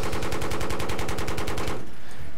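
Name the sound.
AC-130 gunship gunfire in video game Battlefield 3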